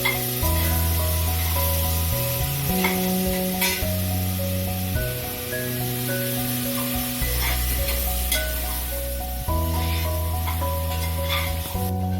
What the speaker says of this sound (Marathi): हा मसाला फ्राय करून घेऊयात मस्तपैकी